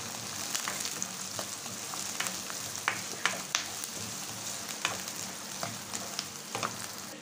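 Onion and garlic fry in a pan for adobo, a steady, quiet sizzle broken by scattered sharp pops and stirring clicks, heard close with no talk.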